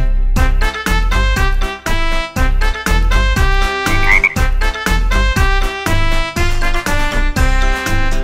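Children's song about little frogs jumping on a bed, with loud, steady rhythmic music and repeated croaking frog sounds over the beat, no voices heard.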